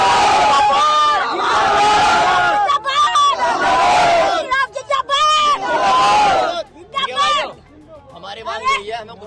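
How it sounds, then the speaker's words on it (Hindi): At a funeral procession in Ghaziabad, a crowd of women chants revolutionary slogans and screams. Loud, close bursts of rhythmic group shouting alternate with shrill cries, then break into scattered yelling. "महिलाएं इनकलाब जिंदाबाद के नारे लगाने लगी, चीखने लगी, चिल्लाने लगी"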